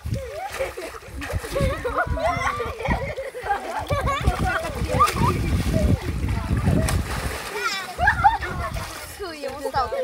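Children splashing and jumping into water at a sanatorium, repeated sloshes and splatters mixed with lively chatter from kids and an adult talking close by throughout.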